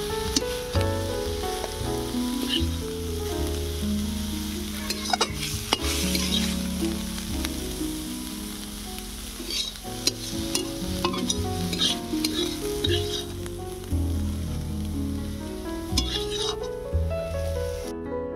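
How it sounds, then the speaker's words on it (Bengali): Piring greens fry and crackle in a pan while being stirred, a busy sizzle with repeated scraping and clinking of the spoon against the pan throughout. "পিরিং শাকগুলো আমি ভেজে নিয়েছি"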